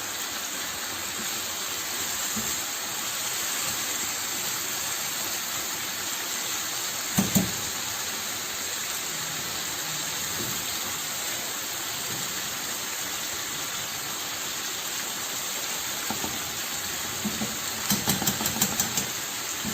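Tandoori chicken tikka pieces sizzle and roast steadily in a hot pan, a continuous hiss with a few soft clatters from turning and brushing on masala.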